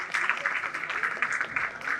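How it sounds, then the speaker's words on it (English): Audience applause at a digital health services conference session, a steady wash of clapping that holds evenly for about two seconds at moderate distance, with no talk over it. "Shall we welcome with a loud round of applause"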